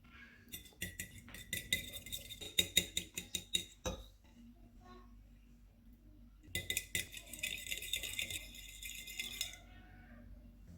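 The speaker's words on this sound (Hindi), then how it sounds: "अंडे को फेंट लेंगे और दूध मिक्स कर लेंगे" An egg with a tablespoon of milk is whisked in a bowl for coating banana bread toast, a rapid run of rhythmic metallic clinks against the bowl, a pause, then another fast burst of beating, close and alone.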